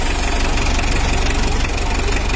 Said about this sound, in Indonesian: Untuk suara mesinnya udah halus dan kompresinya padat